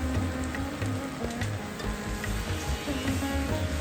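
Curry leaves crackle and sizzle in hot oil with mustard seeds and urad dal, a steady spitting fry close by with no voices.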